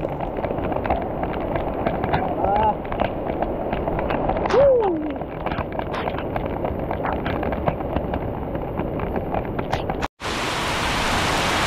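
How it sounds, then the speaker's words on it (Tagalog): Heavy rain pours down steadily during a typhoon, a dense, constant roar with brief voices and whoops over it before the sound cuts off sharply near the end. "Grabe, lakas ang ulan."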